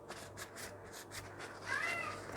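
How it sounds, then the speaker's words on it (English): A female house cat meows indoors, a few drawn-out, wavering cries that grow slightly louder toward the end, moderately close but not loud, with no talking over them. "What a noisy, noisy cat that cat is."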